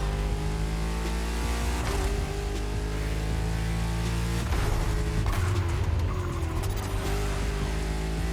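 The GENTY Akylone hypercar from The Crew Motorfest, fitted with straight-cut gears, drones under hard acceleration with a steady engine tone, breaking off sharply at gear shifts before climbing again.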